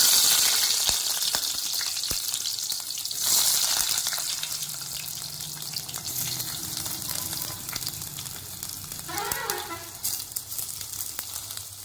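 Paneer pieces fry in hot oil for a restaurant-style cashew paneer curry, a soft hiss and bubbling that is louder at first and fades to a quieter sizzle with a few clicks.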